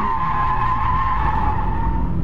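Tires skid continuously as a car slides through a drift with no throttle applied, a steady, loud squealing screech over low road rumble that persists without a break.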